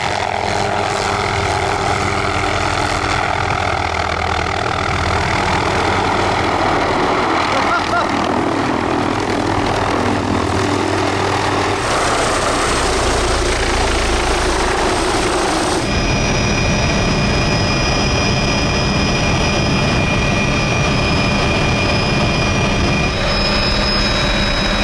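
An MD helicopter with no tail rotor flies close and loud in a steady, dense roar of engine and rotor noise that shifts in tone partway through as it manoeuvres.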